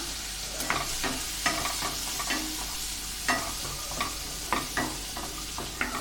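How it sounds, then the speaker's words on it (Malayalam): Sliced onion fries in a pan for paneer tikka masala, a steady hiss of sizzling oil punctuated by regular scrapes and knocks of a spoon stirring, close and clear with no talking. "അത് നമുക്കിതിലേക്കൊന്ന് ആഡ് ചെയ്ത് കൊടുക്കാം. ഈ സവോളയുടെ കളർ ചെറുതായിട്ടൊന്ന് മാറി വരുന്നവരെ നമുക്കൊന്ന് ഇളക്കി കൊടുക്കാം."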